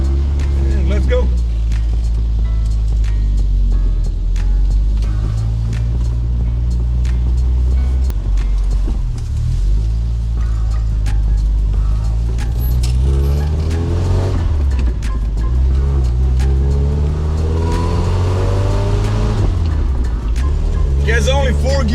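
A classic UK car with a four-speed gearbox drives along, its engine a steady loud low rumble rising and falling through gear changes, close and continuous for the whole stretch, with a voice talking over it at times.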